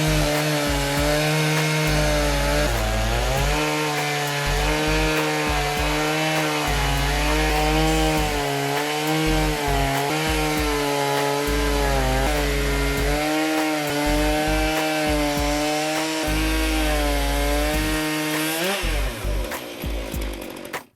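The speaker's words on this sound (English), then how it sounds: "The Logosol F2 is a compact portable sawmill, ideal for woodworking enthusiasts." Logosol F2 compact portable sawmill cutting a log, a loud sustained chainsaw-style engine whine with wavering pitch as the blade works through the wood, winding down sharply at the end.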